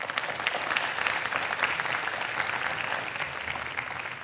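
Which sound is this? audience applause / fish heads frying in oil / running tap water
audience applause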